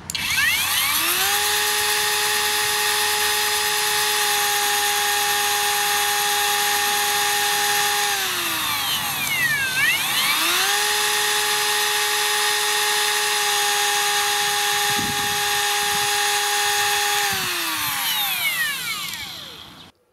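A Banggood 18V cordless router runs steadily with a loud, close high-pitched whine, spins down partway through, then spins back up and holds, its speed wavering slightly before winding down at the end.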